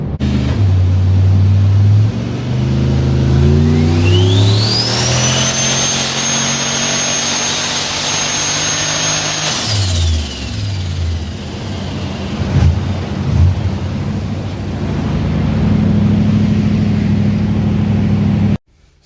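Turbocharged stock VK Commodore engine pulling hard on a dyno, loud and sustained as revs climb steadily, a rising turbo whine over the roar, then backing off to a lumpy idle with a few pops, no talk.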